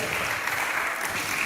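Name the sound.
audience applause for a panel speaker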